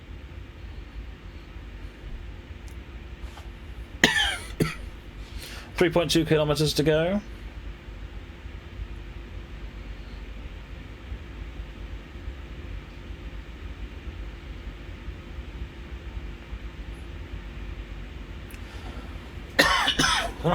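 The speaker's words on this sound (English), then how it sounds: "I don't know why I've got such a cough tonight" A man coughs and clears his throat in a few short bursts, close to the microphone, over a quiet steady hum of rail transport in a train simulator game, with a brief automated announcement.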